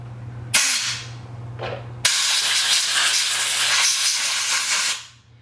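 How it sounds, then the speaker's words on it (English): Compressed air blasts debris out of a high-pressure connection: a short loud hissing burst, a brief second puff, then a long, steady, close rush of air lasting several seconds before cutting off, with no talking. "So what we're going to do is we're going to blow it out with air."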